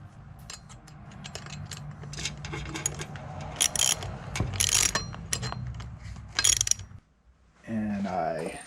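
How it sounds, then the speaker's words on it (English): Ratcheting clicks and metallic scraping come from screwing a T-bar into the front and rear of a 36-inch unicycle seat, close and irregular, with a brief pause and a voice near the end. "I am going to screw the T-bar into the front and rear of my seat."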